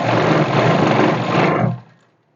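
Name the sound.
sewing machine stitching a suit seam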